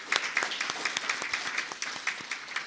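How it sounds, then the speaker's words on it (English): Conference audience at a human rights event applauds a panel and moderator: a modest room of separate, sharp claps in a loose, uneven rhythm, fairly light and unaccompanied by voices. "join me on once again applauding our panel and our moderator"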